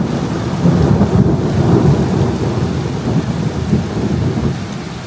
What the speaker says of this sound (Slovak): Ale fakt, že prší.